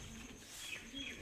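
A soft, low pigeon coo, short and close by, over a faint background hiss.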